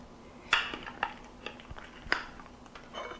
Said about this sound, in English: I'm just going to take a spoon and get some of this bread pudding out of the casserole dish